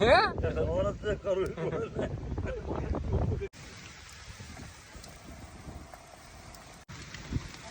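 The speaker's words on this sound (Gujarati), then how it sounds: "વરસાદ ચાલુ છે" Rain falls steadily in a continuous soft hiss that carries through the whole stretch. A voice talks loudly over it at first, then the rain is heard nearly alone.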